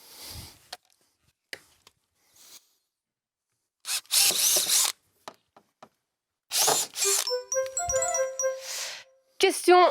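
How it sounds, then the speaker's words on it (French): A power drill bores holes into a wall for plugs in several short, loud whirring bursts separated by quiet pauses. Chiming tones and brief talk occur between the bursts. "Maintenant, je vais percer, mettre en place mes chevilles"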